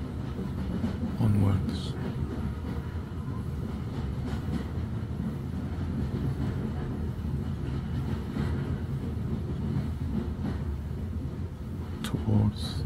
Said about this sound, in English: As you listen to the Hogwarts Express. Puff and chuff